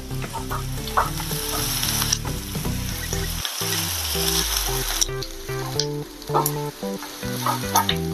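Onions sizzle and crackle in a hot pan, softening and browning for dhaba-style matar paneer, with a steady frying hiss broken by scraping stirs and clinks of a utensil.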